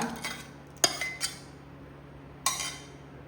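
Dishes and utensils clink quietly as cooled custard for a fruit custard is moved into another vessel. A few sharp, separate metallic and glassy taps stand out over a low background.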